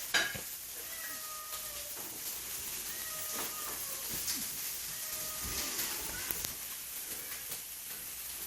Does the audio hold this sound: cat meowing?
yes